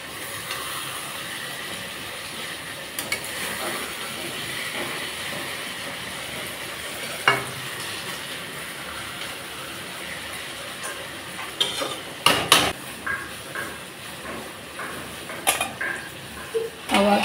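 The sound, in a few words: fish being turned over while cooking in a pan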